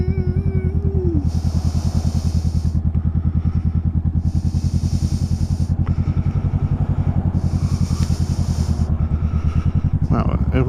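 A motorcycle engine throbs in a steady, loud rhythm while riding through a stretch with stop signs, with a rider's voice talking over the constant drone and a brief rise in revs near the end.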